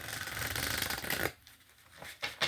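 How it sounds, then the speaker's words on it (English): Tarot cards being shuffled in a continuous rustling riffle for about a second, then stopping, followed by a few softer card flicks near the end. "A horrible shuffle."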